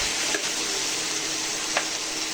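Potatoes frying in an open pan, a soft continuous sizzle with faint stirring scrapes, quiet and close, no one speaking.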